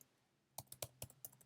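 Quiet keystrokes on a computer keyboard while typing code, about eight crisp clicks in an uneven quick rhythm after a short silent pause, close and faint, with no talk.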